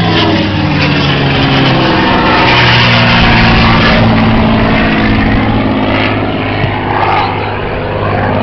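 Propeller-driven American warplane, a rugged long-range escort fighter, flying at the Duxford autumn air show, its loud steady engine drone continuous and close throughout.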